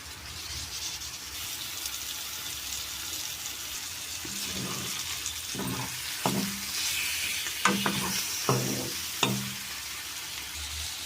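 Fish pieces with ginger-garlic paste and chilli powder frying in oil, a low steady sizzle that grows busier midway as a spatula scrapes and stirs in a string of distinct close strokes.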